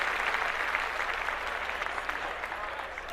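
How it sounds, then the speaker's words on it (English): Steady applause on a podcast, a continuous wash of clapping at moderate level throughout, with no talk over it. "I'm gonna clap that up one more time"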